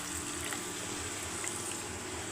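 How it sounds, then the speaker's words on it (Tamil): Water being poured into a pan of sautéed onion and tomato masala for a dried anchovy karuvadu thokku, giving a soft, steady trickling wash with no pauses throughout. "நம்ம இப்போ இதில் தண்ணி சேர்த்துக்கலாம்"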